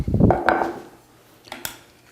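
A scoop clinks against a dish while rich mango dessert is portioned into servings, with a cluster of scraping knocks at the start and two sharp taps near the end.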